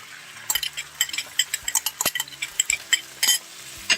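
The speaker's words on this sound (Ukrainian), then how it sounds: "виливаємо оцю томатну пасту, яку розмішали її з водичкою" A spoon rapidly stirs and scrapes a pan as tomato paste mixed with water goes in, a quick run of close metallic clicks and knocks over a soft sizzle, no voices.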